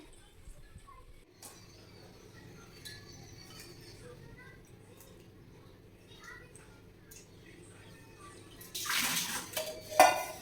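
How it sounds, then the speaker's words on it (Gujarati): Trimmed cluster beans washed in water: quiet clinks of a vessel and soft sloshing, then a loud splashing burst of water near the end, with a voice speaking faintly underneath. "ગવારને બંને બાજુથી કટ કરીને 2 વાર એને પાણીથી ધોઈ દેવાનું છે."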